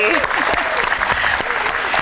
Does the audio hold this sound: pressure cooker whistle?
no